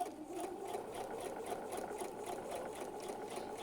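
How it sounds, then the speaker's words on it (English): A sewing machine stitches a dart in dress fabric, running a steady, continuous mechanical whir with a fast, even pulse throughout, fairly quiet and with no talking. "When stitching your dart, you're going to start at the widest point of the dart."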